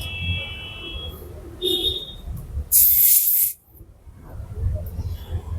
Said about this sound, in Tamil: லைட்டாக போடும்போது மட்டும் ஒரு ஏர் ப்ரெஷர் வந்து ரிலீஸ் ஆகுது.